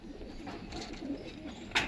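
An old male pigeon held in a pigeon seller's loft coos in a steady low murmur, joined by other birds nearby, with a short sharp knock right at the end.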